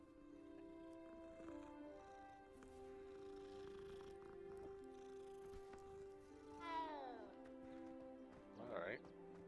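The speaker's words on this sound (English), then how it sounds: "Weird kitty cats are just all over the place" Cats in the Hogwarts Legacy video game meow and purr amid steady background music, with short rising meows standing out near the end.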